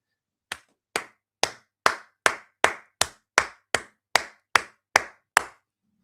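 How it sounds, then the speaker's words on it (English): Twelve sharp, evenly spaced hand claps from one person, close and loud, with silence between each clap. "I'm clapping for you."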